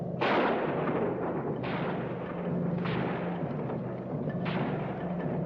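Artillery and gunfire in a World War II ski troop attack video game, several heavy booming blasts spaced a second or so apart over a sustained low rumble, loud and fairly close.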